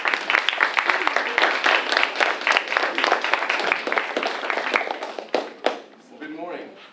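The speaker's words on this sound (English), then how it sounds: "you're going to give him a huge round of applause." Scattered, fairly close hand clapping in an audience welcoming a speaker, uneven and sharp, tapering off near the end as a voice begins.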